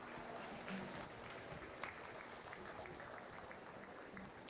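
Audience applause in a county fair livestock arena after a junior exhibitor's class win, a steady broadband patter of many hands filling the clip at moderate level, with no one speaking.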